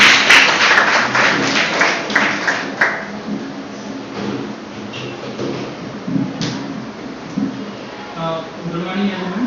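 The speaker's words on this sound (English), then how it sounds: "Please give a round of applause for Nischal." Audience applause for a debate speaker at a school English debate competition, a burst of clapping at the start that fades over a few seconds into murmuring room noise and voices.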